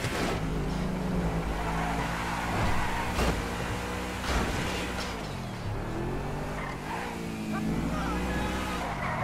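A car driven in GTA V hums and revs continuously with tire squeal and skidding, its engine pitch rising and falling while someone talks over it.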